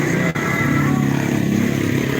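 A motorcycle engine being worked on with traditional methods and no modern tools runs steadily and close by, with a continuous low throbbing hum and no voices.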